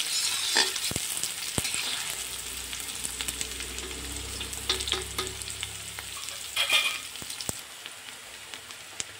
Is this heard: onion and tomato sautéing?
yes